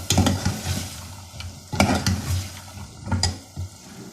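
Red kidney beans being stirred and sautéed in a pot, with scraping strokes of a spoon over a steady sizzle, close by.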